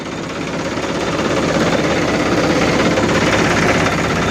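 A used Mahindra 295 Sarpanch tractor, a 2011–12 model, idles loudly and close, a steady, rumbling diesel chug with rattling vibration that holds even throughout, no one talking.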